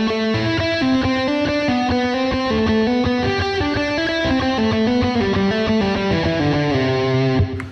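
Distorted electric guitar plays a quick repeating lick, each note sounding twice in a steady rhythm, ending with a sharp cutoff.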